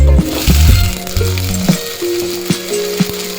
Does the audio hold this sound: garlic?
yes